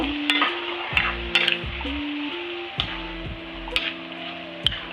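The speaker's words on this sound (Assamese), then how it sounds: "দুচামুচ দি কেনে ভালকৈ লৰাই থাকিব" Spoon stirring chopped raw papaya in a hot pan for Assamese khar, a sizzling hiss under repeated scraping and tapping strokes, some sharp clinks against the pan, no talk.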